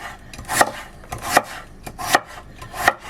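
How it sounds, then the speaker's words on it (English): A knife thinly slicing potato for Cornish pasties, cooked aboard a narrowboat, gives four evenly spaced, crisp cuts against the board, close and clear with no talk. "So we thinly slice this potato like this."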